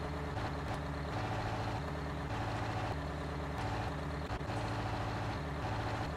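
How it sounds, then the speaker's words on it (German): A farm vehicle's engine in Landwirtschafts-Simulator 19 running roughly, a loud droning idle that surges and dips in uneven cycles as if hunting for a gear, with no talking. "Ich glaube, der Motor ist kaputt."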